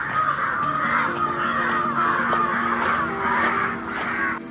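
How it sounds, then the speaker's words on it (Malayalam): Several crows caw loudly and repeatedly near a pigeon training area by rubber trees, their harsh calls overlapping in a steady chorus with no talk. "മൊത്ത കാക്ക ശല്യം."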